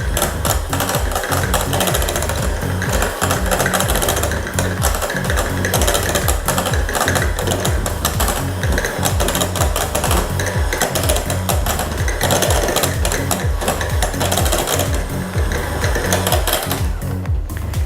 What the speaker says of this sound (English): So cream together the butter and the shortening. I usually cream them on a medium-high speed.